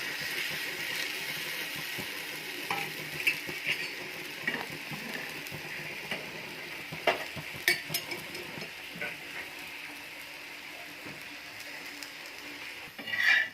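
Tender corn thalipeeth flatbreads cook in a little oil on a pan, a soft, low sizzle under occasional clinks and scrapes of a spatula flipping them, with a louder clatter at the end.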